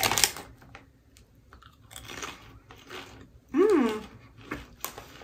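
Plain salted OLW brand potato crisps being bitten and chewed up close, several crunchy bites among quiet gaps, with a brief vocal sound in between.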